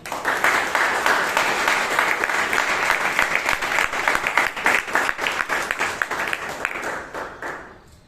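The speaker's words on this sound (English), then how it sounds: "A loud round of applause to all of you." Members at a Bangalore Toastmasters meeting applaud in a loud, sustained round, individual claps growing more distinct in the later seconds before the sound fades out.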